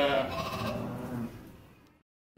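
Young lambs less than fifteen days old bleat in a spring lambing barn, one loud, close, wavering cry that fades out over about two seconds.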